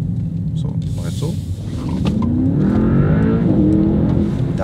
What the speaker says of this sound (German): werde das Fahrzeug einmal stärker beschleunigen aus 10 auf 40